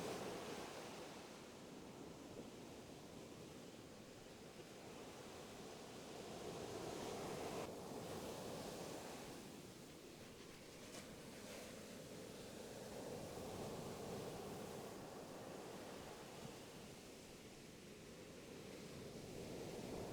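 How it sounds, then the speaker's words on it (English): Soft ocean waves wash in and recede in slow, steady swells, a distant continuous surf with no voices. "Focus it on the sound of the waves to return to meditation."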